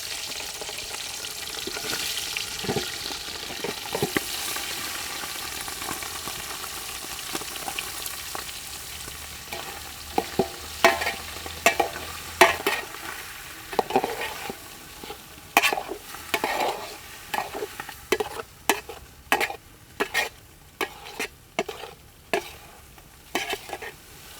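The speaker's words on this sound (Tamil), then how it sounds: "இப்போது லைட்டாக தேங்காய் எண்ணெயில் அந்த லிவரை வசக்கி எடுக்கலாம்." Boiled chicken liver sautés in coconut oil for a South Indian pepper fry, a steady sizzle broken by frequent sharp scrapes and clanks of a spoon stirring in the pan, growing busier toward the end.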